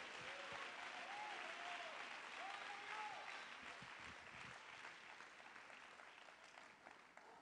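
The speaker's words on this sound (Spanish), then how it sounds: "Dale un aplauso al Señor" A church congregation claps steadily during a Spanish-language service, a broad wash of applause that fades slightly toward the end, with a few faint voices rising through it.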